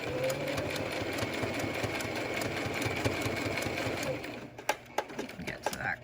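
A domestic sewing machine stitches a cable-tie reinforced fabric face mask in rapid, steady mechanical chatter, then stops and gives a few separate clicks and knocks, with a voice talking over it at low level.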